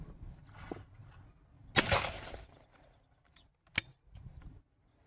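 Shotgun shots fired at sporting clay targets on a Compak Sporting layout in the Loire Valley near Vendome: two sharp, loud reports about two seconds apart, each with a short decay, amid quiet outdoor background.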